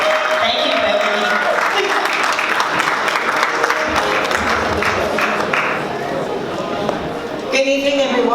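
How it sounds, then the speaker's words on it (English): An audience at a charity launch evening applauds Beverly Walker with a sustained, fairly loud round of clapping that carries on throughout, with a brief shift in tone near the end. "Let's give her a warm round of applause."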